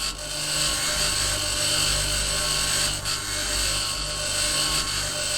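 A mining tool grinds up rocks in the Mars survival game Occupy Mars, a steady high-pitched whirring drone with a constant hum, running unbroken with small dips.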